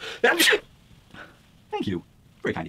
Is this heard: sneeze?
yes